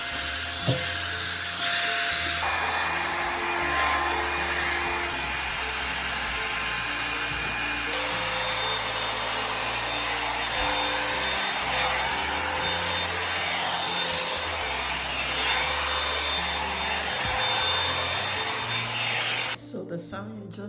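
A Revlon One-Step Volumizer hair dryer runs on its high setting, giving a loud steady whooshing fan whine close by that holds for about twenty seconds before a brief click and a drop in sound near the end.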